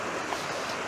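Beli potok, a mountain stream, flowing close by with a steady broadband rushing and burbling of water, brief and continuous.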